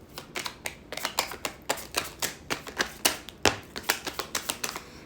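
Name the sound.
shuffling tarot cards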